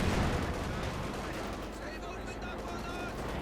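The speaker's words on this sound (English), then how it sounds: "command tank striking at the Maxim, but just can't seem to land a bloody hit with its high explosive shells" Dense battle noise from the World War II strategy game Company of Heroes 2, with rapid gunfire and booming tank high-explosive shells rolling together under a commentator's voice.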